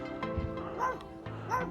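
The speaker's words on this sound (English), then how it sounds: "A one-eyed chihuahua. Old chihuahua. Sitting here barking at me." An old one-eyed chihuahua barks and yips close by outdoors, several sharp high barks in quick bursts, with a faint steady hum underneath.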